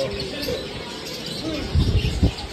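Birds chirp and coo close by in a busy indoor pet shop, with soft rustling and chatter in the background.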